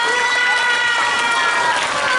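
Elementary school students in a lecture hall break into loud, dense applause mixed with cheering and shouting, a steady close roar lasting a couple of seconds.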